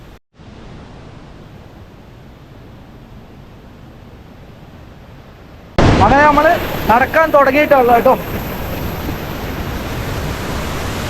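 Ezharakkund waterfall in Kannur on a rainy day, its rushing water a steady broadband roar that starts faint and swells sharply louder partway through, with a person talking over it.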